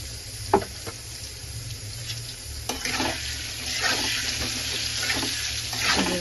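Potatoes with salt being stirred in a pan for an egg curry, a soft scraping and sizzling texture with a few light knocks of the utensil, steady and fairly quiet.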